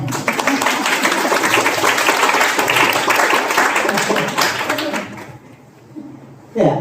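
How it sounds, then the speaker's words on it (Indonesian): Audience applause at a catechesis teaching session: loud, dense clapping over several seconds that fades out, then a brief final burst of claps, with voices mixed in. "Kita beri tepuk tangan untuk kita semua."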